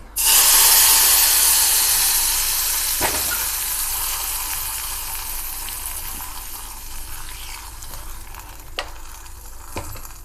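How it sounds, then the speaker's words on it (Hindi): Spices for a tadka hit hot oil for pakoda kadhi with a loud burst of sizzling that settles into a steady crackling hiss, punctuated by a few clinks of a utensil. "अब इसमें हम तड़का लगा देंगे।"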